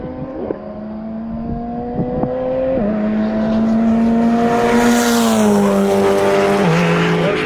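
Race cars circling a track, a Honda S2K among them, with a close engine whine climbing and dropping through shifts, building louder as cars pass near, alone without talk.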